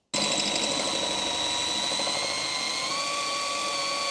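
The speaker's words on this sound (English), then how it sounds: "Good speed of your drilling as well." A drilling machine boring through metal in a workshop shed, giving a steady, loud, close whine with a high tonal edge that runs without a break and no talk over it.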